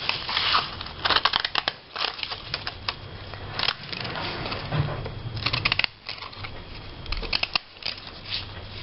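Magazine paper crunches and snips under decorative-edge scissors in irregular bursts of crisp cutting, close up, with small pauses between strokes.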